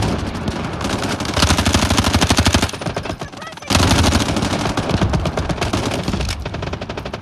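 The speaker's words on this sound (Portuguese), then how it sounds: "eu tô escutando uma metralhadora. É o tanque que tá atirando lá da base" Machine gun fire from a tank in the Delta Force Mobile shooter game, long loud rapid bursts of rattling shots with a brief pause midway before the firing resumes.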